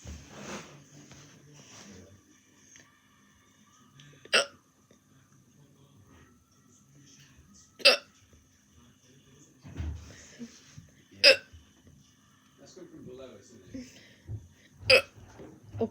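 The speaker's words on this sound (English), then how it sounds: "I have the hiccups, guys." A person has the hiccups: sharp, isolated hiccup bursts recur every few seconds, each loud and close against a quiet background with faint breathing and small body sounds between them.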